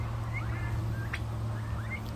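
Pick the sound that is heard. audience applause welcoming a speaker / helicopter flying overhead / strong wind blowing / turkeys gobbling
turkeys gobbling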